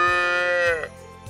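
A single long bleating moo from a calf or cow on a farm, close and loud, with a clear tonal cry that holds steady then drops and fades, followed by quieter farmyard background.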